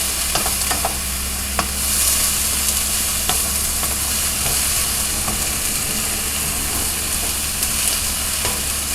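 Vegetables for rice chow sizzle in a pan and are stirred now and then, making a loud, steady frying hiss broken by occasional utensil scrapes and clicks, with no one speaking.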